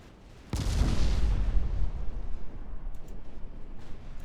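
A warship in the naval game Ultimate Admiral Dreadnoughts fires off torpedoes, a sudden loud booming launch followed by a rumbling, decaying roar, heard alone without speech.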